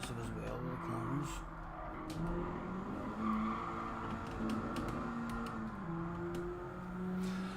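Race car engine droning steadily through Gran Turismo driving, with tires skidding and squealing as the car is pushed aggressively through corners; loud and continuous, with a voice talking over it.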